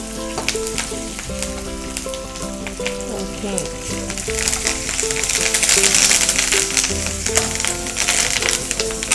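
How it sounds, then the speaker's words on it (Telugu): A tempering of ginger, pepper and asafoetida crackles in hot oil for pongal made with foxtail millet, loud continuous sizzling with sharp popping and spluttering throughout. "ఈ పోపు కొంచెం టపటప అంటది"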